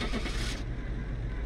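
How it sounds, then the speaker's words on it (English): Truck engine starting in the video game Phasmophobia: a steady, loud low rumble that runs through the clip, with hissy noise fading out after the first half second. "I can hear the truck starting from me."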